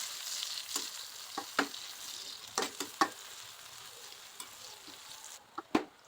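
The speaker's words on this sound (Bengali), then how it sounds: "তেলটা গরম হলে সেখানে 1/3 কাপ পেঁয়াজ কুচি দিয়ে হালকা ব্রাউন করে ভেজে নিব।" Chopped onions frying in hot mustard oil in a pan, a steady faint sizzle with several sharp crackles and pops scattered throughout, no voices.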